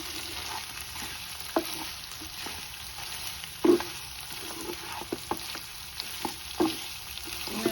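Pepper chicken fries in hot oil in a home kitchen, giving a constant soft sizzle broken by scattered clinks and scrapes of stirring, with no one speaking.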